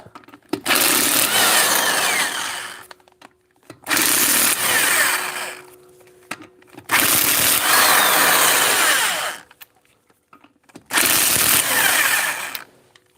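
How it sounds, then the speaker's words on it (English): Cheap electric Harbor Freight impact wrench working on a car, four loud, close bursts of harsh whirring hammering, each lasting a few seconds, separated by short quiet pauses. "Cheap Harbor Freight impact wrench, electric."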